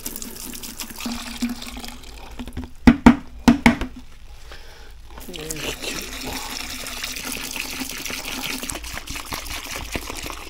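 Liquid poured into a container to dilute a carburetor cleaning solution, a steady trickling pour heard close over a workshop background, broken by a few sharp knocks, with a person speaking at the start.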